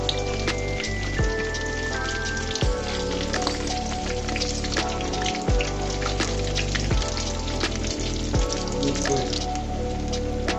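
Egg potato chops fry in hot oil with a dense, continuous crackling sizzle, alongside a steady rhythmic, tonal background pulse.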